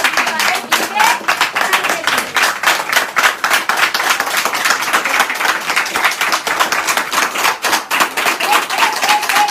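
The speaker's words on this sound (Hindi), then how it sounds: "एक बार जोर से ताली लगाओ" An audience at a business-plan seminar claps loudly and steadily. Dense, rapid handclaps run close and continuous throughout, with no gap.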